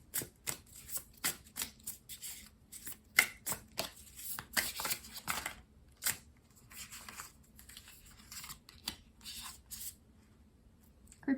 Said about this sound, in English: I'm going to provide some shuffling sounds in case some of you might need to hear something